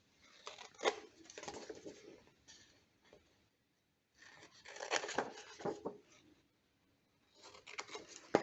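Scissors cut patterned paper for a scrapbook loaded envelope, producing soft snipping and rustling in short bursts separated by pauses, close and quiet.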